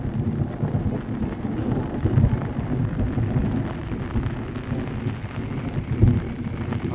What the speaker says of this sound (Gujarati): ગાજવીજ ને ફૂલ.